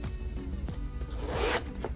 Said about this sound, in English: Oh, the zipper is really nice and smooth.